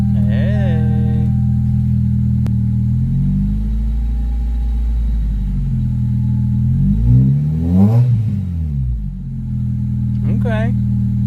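A Toyota Corolla engine idles, then revs in several swells that climb and fall back, with a final short blip near the end, loud and close, over steady engine rumble.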